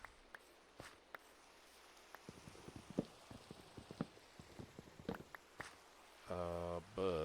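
Steady rain falls in the Minecraft video game, a soft continuous hiss dotted with scattered clicks and taps, then a short tonal burst near the end.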